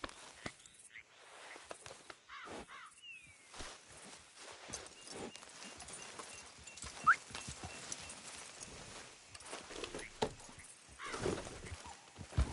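Horse hooves trot in Red Dead Redemption 2, a steady run of soft clip-clop footfalls at moderate distance, with a brief whinny-like sound and some ambient game noise, no voices.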